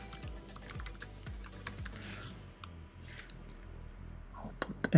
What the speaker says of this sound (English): So I'll just type in the name.